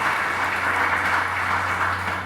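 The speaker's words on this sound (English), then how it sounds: "Scott, give him a round of applause." Audience at a Martin Luther King Jr. Commission event in Harrison, Arkansas gives a round of applause for a bank sponsor: steady, dense clapping at even loudness throughout.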